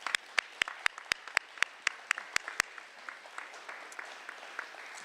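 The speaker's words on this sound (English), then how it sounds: "Let's give her another round of applause." Audience applause at a Lions awards-night event: sharp, evenly spaced claps lead for about two and a half seconds, then a softer wash of scattered clapping carries on at moderate distance.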